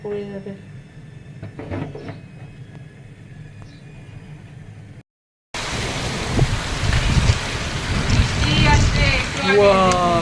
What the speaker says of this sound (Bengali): যেরকম গরম ছিল সেই বৃষ্টি একেবারে একেবারে কি ঝড় বৃষ্টি।